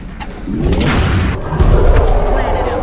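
A weapon fires during an X-COM turn-based tactical combat game. Heavy, booming gunshot impacts and rumbling blasts sound with a low, thudding weight across a few seconds.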